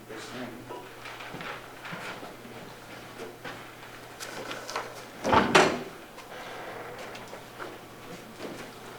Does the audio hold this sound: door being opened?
yes